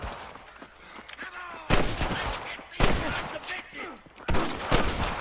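Gunfire in the Western video game Red Dead Redemption: a rapid volley of loud, close shots and bursts cracks through a busy, noisy battle, with several sharp peaks over continuous background din.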